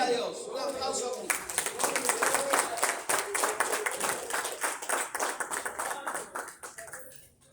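A church congregation claps together after a sermon, a rapid, energetic run of many hands that slowly thins out and fades, with voices speaking over it.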